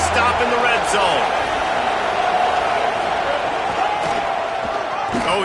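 Football stadium crowd cheering and roaring as the defense tries to hold in the red zone, a sustained loud wash of noise under close commentary.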